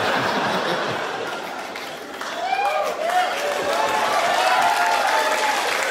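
An audience at a comedy show breaks into loud, sustained applause mixed with laughter, the clapping swelling and holding steady to the end.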